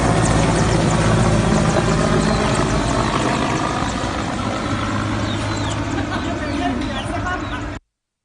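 A military helicopter thrums continuously with rotor chop and engine drone, loud and close, under a voice speaking, before cutting off abruptly.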